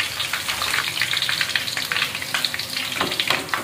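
Mung bean peyek batter fries in oil in a new wok with a steady, dense sizzle and crackle, the oil spattering continuously as more is ladled over, close and alone without talk.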